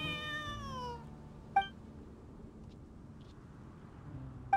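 A cat in the video game Genshin Impact gives one clear, drawn-out meow at the start, followed by quiet ambience with a couple of soft clicks.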